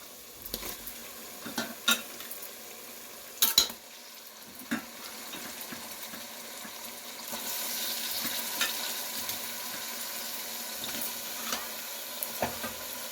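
Chicken frying in a pan, with a soft steady sizzle that swells in its second half and scattered clinks and scrapes as a utensil stirs against the pan.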